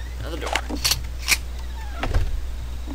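Doors in the video game Rust open and close as several sharp clunks and slides, spaced about half a second apart, with a lower thud near the end.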